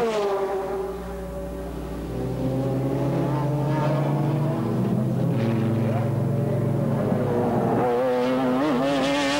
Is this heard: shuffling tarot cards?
no